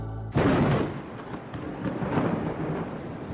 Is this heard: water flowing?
no